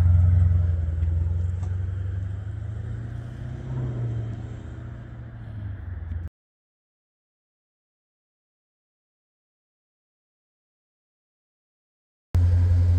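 A blacked-out, tinted Dodge Scat Pack Widebody drives past with a low, steady engine rumble that swells slightly mid-pass, then cuts to silence before a brief return of the rumble at the end.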